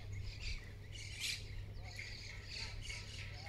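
Parrots squawk at their nest in a forest, repeated harsh calls at a moderate distance over a low steady hum, with faint talk underneath.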